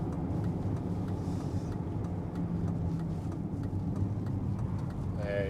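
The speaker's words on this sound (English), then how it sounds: "I wanna pull over somewhere so this car could pass me." A car passes on Highway 38 behind a Range Rover, its steady road and engine rumble lasting throughout, with a brief high chirp near the end.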